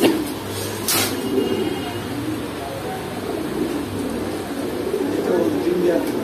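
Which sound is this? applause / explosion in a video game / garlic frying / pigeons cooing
pigeons cooing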